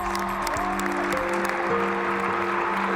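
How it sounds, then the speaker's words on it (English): Steady, loud applause from an audience honoring the judges at a Penn State mascot selection event, continuous for about three seconds with a faint hum or tone running beneath. "Let's give a big round of applause to our judges."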